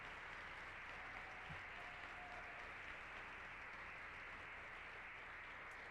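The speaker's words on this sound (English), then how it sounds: "please give them a round of applause." An audience at a high school senior induction ceremony applauds, a dense, even roar of clapping that holds steady and fairly distant throughout, with no voices over it.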